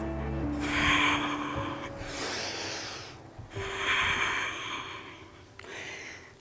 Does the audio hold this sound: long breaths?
yes